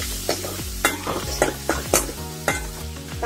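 Tomatoes, tamarind, dried red chillies and curry leaves sautéed in a pan, a spoon striking and scraping the pan in quick regular strokes over a continuous sizzle.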